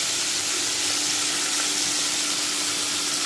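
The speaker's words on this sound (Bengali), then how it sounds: "মাছটা প্রায় ভাজা হয়ে গেছে" Salted fish pieces fry in hot oil in a home kitchen pan, a loud, steady sizzle and hiss running unbroken throughout.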